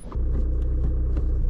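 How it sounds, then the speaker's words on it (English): A car engine rumbles from inside the cabin while driving on a morning road, a deep, steady, loud low drone that rises quickly in the first moment and then holds. "I actually have the luxury of going by car today."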